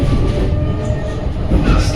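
A train rumbles loudly at a railway station in Poznań, Poland, a heavy close clatter of rolling wagons with no talk.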